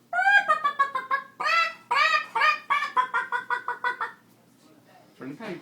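Someone imitates a hen clucking with a rapid series of short, bright, close clucks that speed into a stuttering run and then stop, followed by a brief breathy sound.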